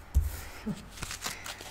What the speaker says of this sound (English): I'm also incorporating the shuffling into the reading